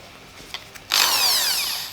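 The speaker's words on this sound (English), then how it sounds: "So I'm going to drill one, skip one, drill one, skip one, drill one, skip one, drill." A power drill whirs into a tufted mirror backing at low speed, starting abruptly after a short quiet lead-in and holding a loud, steady whine with a slowly rising pitch.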